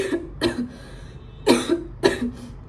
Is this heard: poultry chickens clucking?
no